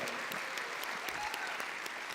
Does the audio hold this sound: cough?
no